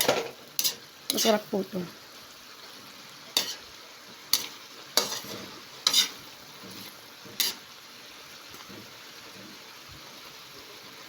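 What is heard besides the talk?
chili stirred into Bicol Express cooking in a pan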